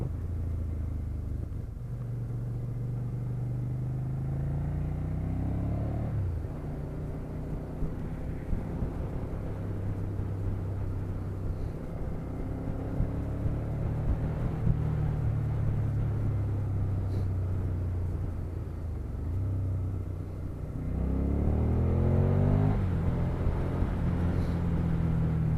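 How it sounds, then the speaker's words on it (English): A motorcycle engine runs nearby with a steady low harmonic rumble, revving up briefly near the start and again toward the end. "I think the bike has a pleasing sound."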